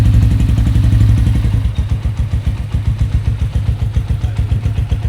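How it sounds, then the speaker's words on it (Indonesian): A carbureted Honda CB400 Super 4 runs close by, first a steady loud idle, then settling into a lumpy, pulsing rhythm of regular deep throbs, with no voices over it. "memang suara-suara gini nih hanya bisa di karbu teman-teman"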